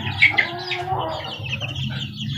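Young chicks and farm fowl cheeping and clucking near at hand in a backyard coop, a couple of sharp bright peeps at the start followed by a steady scatter of chirps over a low background hum.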